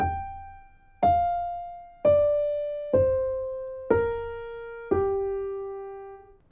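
Six plucked or struck tones from the Japanese Sakura scale ring out one by one, each about a second apart and slowly decaying, stepping downward in a gentle descending melody.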